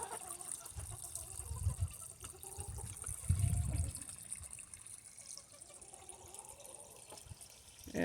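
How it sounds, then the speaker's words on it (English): River water flowing steadily during an atmospheric-river storm, a continuous close rushing wash with a couple of louder low surges partway through, heard alone without talk. "Okay, let's look at this river."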